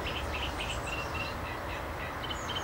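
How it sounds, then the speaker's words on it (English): Faint bird chirps and short calls repeat under trees by a river on an early summer morning, over a steady low wash of distant traffic noise. "And listening to the birdsong along with the traffic."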